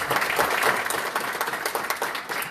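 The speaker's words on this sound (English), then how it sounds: "I think we all want to give all of you a big round of applause." Audience at a fall 2018 candidates forum on education breaks into sustained applause, a dense, even wash of many hands clapping with no talking over it.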